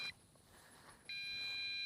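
A small MJX B5W RC drone emits steady, high-pitched electronic low-battery beeps that start partway through and continue without a break, with faint rotor hum underneath.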